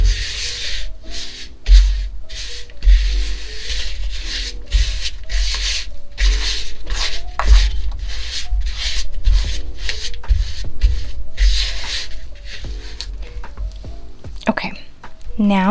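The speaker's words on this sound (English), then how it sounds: "I'm actually going to just mix this in with a spatula first." Room-temperature butter worked with a spatula for banana bread, giving repeated soft rubbing, scraping strokes close up in a steady rhythm, with a few sharper clicks near the end.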